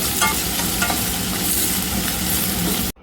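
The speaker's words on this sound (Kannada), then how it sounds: "ಬನ್ನಿ ಇವಾಗ ಇದಕ್ಕೆ ನಾವು ಈರುಳ್ಳಿನ ಸೇರಿಸೋಣ. ಚೆನ್ನಾಗಿ ಫ್ರೈ ಮಾಡ್ಕೊಳ್ಳೋಣ." Onions frying in oil for lemon rice, a steady broadband sizzle with scraping stirs throughout, loud and close, stopping abruptly near the end.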